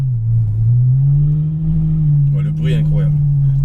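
Ferrari F12 Berlinetta V12 holding a steady, loud drone on a race track at Exotics Racing in Las Vegas, heard from inside the car with a brief burst of voices near the end.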